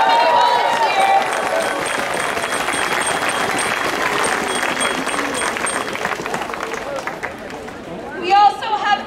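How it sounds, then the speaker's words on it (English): A rally crowd outdoors in Toronto applauds the marshals, broad sustained clapping mixed with cheering and crowd chatter, with a brief louder burst of voices near the end. "Can we have a big round of applause for all the marshals?"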